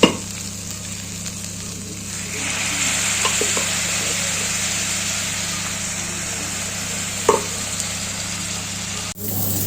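Saag greens of palak, sarson, bathua and methi frying with softened tomatoes in a pan, a steady close sizzle that fills the whole stretch, with a few faint clinks of stirring and a brief knock near the end.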